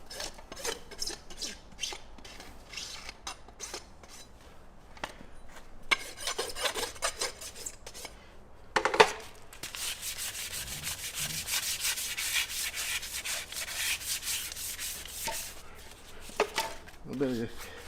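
Farrier rasping and lightly polishing the sharp edge of a horse's hoof pad, a series of close scraping strokes in bursts with short pauses, someone talking at moments.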